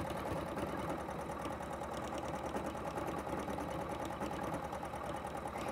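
A sewing machine stitches felt at a steady fast pace, its rapid mechanical needle chatter and motor hum continuous and close throughout.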